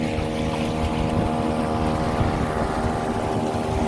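A chainsaw engine drives a Thai longtail boat slowly across a harbour, giving a loud, continuous buzzing drone with wind noise over the microphone and no talking.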